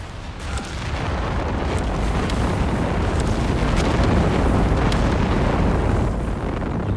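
Rocket barrage from a walking Stuka in Company of Heroes 3 pounds the ground in a sustained roll of loud, overlapping explosions and booms lasting several seconds without pause.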